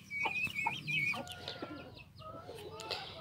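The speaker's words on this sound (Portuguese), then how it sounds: "E tem aqui também uns pintos de pluma. Com outros pintos ali. Com a galinha." A backyard hen with downy chicks clucks steadily while chicks cheep in thin high peeps, close by, with a rooster-like call and scattered farmyard noise mixed in.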